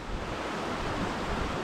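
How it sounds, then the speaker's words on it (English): A creek flows beside a sunny campsite at Chena Hot Springs, Alaska, as a steady, close, full-bodied rush of water with no breaks. No voices are heard. "look at this creek right here"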